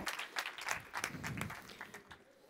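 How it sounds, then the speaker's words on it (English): A conference audience claps for a presenter at the close of a session. The applause is faint and thin, with scattered individual claps rising and falling over a couple of seconds. "Please give a round of applause to Javier."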